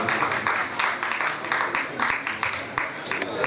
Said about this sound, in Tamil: நாம் கரகோஷம் எழுப்பி அவர்களுக்கு வாழ்த்து கூறுவோம்